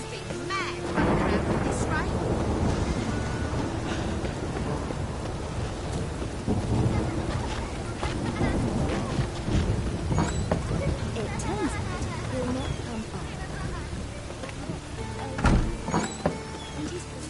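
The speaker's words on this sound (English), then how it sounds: "Must be mad running around with this rain." Steady heavy rain with rolling thunder in The Witcher 3, a constant wet hiss and low rumble that swells in places, with a sharp loud crack late on and voices talking over it.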